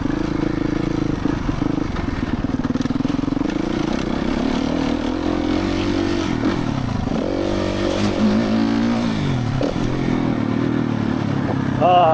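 A Suzuki RMZ450 motocross bike rides a muddy, slippery track, its engine droning steadily with shifting revs and clatter, heard close throughout.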